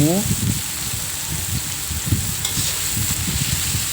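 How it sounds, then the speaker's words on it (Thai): Minced pork and garlic stir-fry in a pan with a continuous, moderately loud sizzle and stirring scrapes, while a voice talks over it. "กระเทียมก็เหลืองแล้วใส่หมูสับลงไปเลยค่ะ เราก็จะผัดหมูให้สุกนะคะ"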